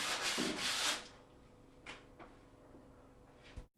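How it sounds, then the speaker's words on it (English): A planed wooden door edge rubbed down by hand with 300 grit water paper, a close, brisk sanding scrape for about a second, then a few lighter strokes and a faint knock. "Now rub the planed edge down with a 300 grit water paper."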